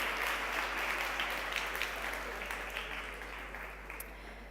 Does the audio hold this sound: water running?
no